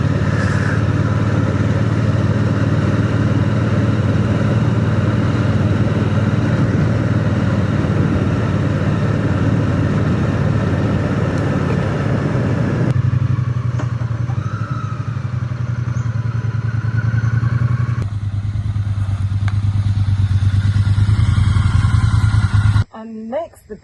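A Triumph Bonneville T100 motorcycle rides steadily with a continuous, loud engine drone that eases off as it slows for a corner, with wind noise throughout and a sharp cut near the end.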